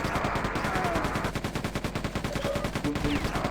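In the mines level of the Quake 2 video game, a weapon fires at gunner enemies in continuous rapid automatic shots with an even rhythm, close and loud, with no talking.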